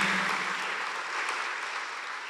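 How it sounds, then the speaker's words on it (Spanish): A church congregation gives steady, dense applause during a worship service, a continuous wash of clapping heard at moderate distance throughout. "Dale un aplauso al Señor Jesucristo."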